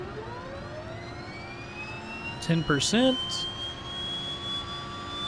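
The right engine of a DHC-6-300 Twin Otter starting up in the FSX flight simulator, a rising turbine whine with sweeping tones that climbs steadily, marked by a short burst of sharp, loud clatter partway through. A voice speaks briefly.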